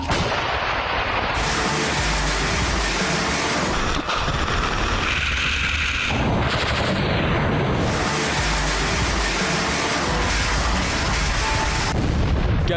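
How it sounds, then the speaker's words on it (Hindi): Heavy bombardment in wartime Ukraine: a dense, loud barrage of booming explosions and artillery blasts, near and overlapping, with a continuous roaring rumble throughout. "बमबारी लगातार जारी है।"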